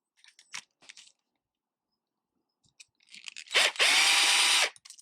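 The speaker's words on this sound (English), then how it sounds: "And I'm going to use the drill again, my drill driver." A few brief clicks and rattles, then a loud close-up burst of a drill driver whirring for about a second as it drives long screws into a TRX-4 RC truck, before stopping.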